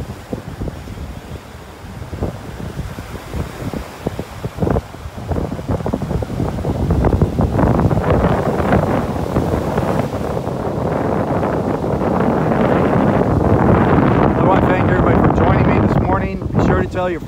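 Strong wind on a beach in North Naples, Florida, roars loudly into the microphone with gusty rumbling buffeting that builds over time. Surf may sound faintly underneath, and a voice briefly speaks over it.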